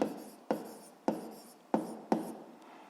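Chalk or marker writing on a board during a physics lesson, heard as five distinct strokes that each start sharply and fade, evenly spaced and fairly faint, with no talking.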